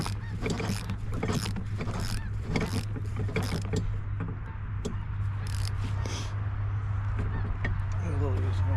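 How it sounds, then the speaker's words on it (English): A flock of ducks honks in a series of scattered, overlapping calls over a steady low hum, with a person talking partway through. "A whole bunch of geese. You gotta go geese. No, those aren't geese. Those are Some sort of ducks, looks like."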